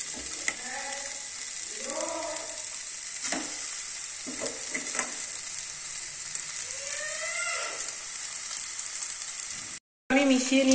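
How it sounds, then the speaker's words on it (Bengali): Chowmein noodles and fried nuts tossed with spices in a hot pan, a continuous sizzle under repeated scraping and clattering of a utensil, brief tonal squeaks, and a short drop near the end. "মিশিয়ে নিচ্ছি ভালো করে চাউমিনটা, মশলার সাথে চাউমিনটা ভালো করে মিশিয়ে নিতে হবে।"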